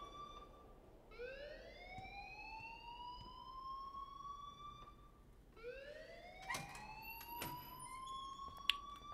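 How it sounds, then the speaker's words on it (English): An electronic school fire alarm blares in the video game Life is Strange. It is a whooping tone that sweeps upward, sounds twice with a short gap, and has faint clicks and taps underneath. "please turn off that alarm since that's your job"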